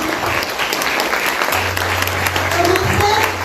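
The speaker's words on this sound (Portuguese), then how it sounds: "Aplauda Jesus pela sua vida agora." A church congregation applauds during a sermon, producing a sustained burst of dense clapping with a voice speaking over it and a low hum underneath.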